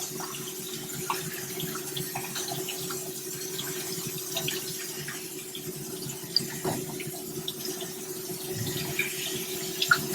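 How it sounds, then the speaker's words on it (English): Kitchen tap runs water steadily into a sink during meal prep, a soft constant splash and hum at moderate distance, with no talking. "Turn on the water and give us some of that rotation action"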